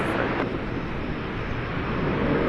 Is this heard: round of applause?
no